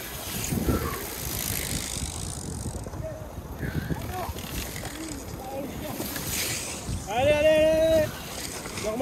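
Cyclocross bicycles sprint through sand during a training session, a steady broadband rush and grinding of tyres in loose sand with wind noise, while people talk and shout in the background.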